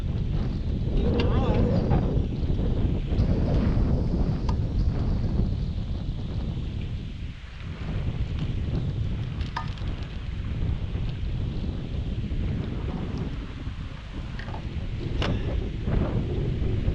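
Strong wind buffets a microphone on a fishing boat during fall cranking, a loud, continuous low rumble that swells and eases throughout, with faint water and handling sounds beneath.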